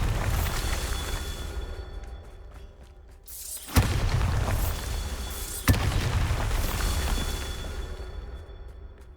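Bombarda blasting spells in Hogwarts Legacy detonate as two sharp, booming explosions a couple of seconds apart, each followed by a long roaring rumble that slowly fades.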